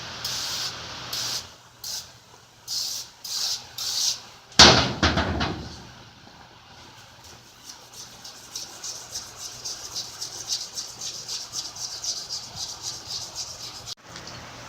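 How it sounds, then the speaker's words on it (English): Duster gas sprays in short bursts to blow paper towel crumbs out of a 4x4 laser machine, a series of close hissing puffs followed by one longer loud blast, then quieter rattling and handling noises. "I don't have any, so duster gas it is, to blow out the little crumbs of the paper towels."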